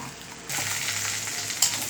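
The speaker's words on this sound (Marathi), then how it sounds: "त्याच्यात तेलामध्ये हे वांगे टाकलेले आहेत." Eggplant hitting hot oil with golden-fried onion and cumin, a steady loud hiss that jumps up halfway through and holds, with a brief scrape near the end and no talking.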